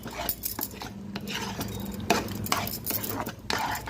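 Shahi paneer gravy being fried and stirred in a pan over a high flame, with a spoon scraping and clinking against the metal in irregular strokes, close by and without talk.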